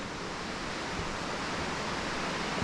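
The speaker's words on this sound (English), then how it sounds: "You can hear the waterfall straight ahead down there." A steady broadband rush of falling water, like a waterfall heard from some distance, constant and unbroken with no voices.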